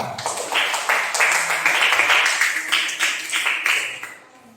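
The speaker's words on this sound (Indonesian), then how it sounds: "tepuk tangan dulu buat Sarah" Classroom applause for a student named Sarah, a short burst of children's clapping that is fairly close and steady, then fades out near the end.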